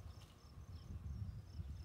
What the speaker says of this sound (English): there are still bees on that branch